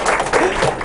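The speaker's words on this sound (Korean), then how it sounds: "박수 한번 쳐주세요" A lecture audience gives a brief round of applause for a guest, quick close clapping lasting under a second.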